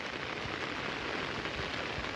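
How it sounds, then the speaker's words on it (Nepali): Steady rain pours down on a rainy day at a shop, a dense, even hiss of drops hitting surfaces that holds constant throughout, with no voices. "कस्तो पानी पर्दैछ हेर्नु सक्छ"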